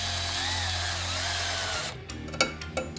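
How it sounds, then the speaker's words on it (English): A power drill bores a hole in a knife part, a steady high whine running for about two seconds before cutting off, followed by a few sharp clicks and knocks. "I need a very accurately drilled hole that's exactly the same size as the shaft."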